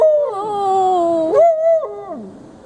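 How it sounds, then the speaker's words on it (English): A dog whining in a long, drawn-out, wavering howl-like whimper, close and fairly loud, rising and falling in pitch before fading into a lower whine. "Whiny dog, what do you want?"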